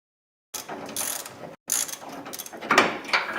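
A wrench works a nut loose on a rear strut of a 1998 Dodge Durango, giving short metallic ratcheting and clicking bursts up close, separated by a brief pause.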